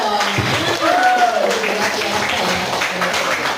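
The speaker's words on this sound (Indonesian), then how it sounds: "Tepuk tangan dulu dong." An audience at a school drug-awareness talk claps hands together in a burst of applause, moderately loud, mixed with voices speaking over it.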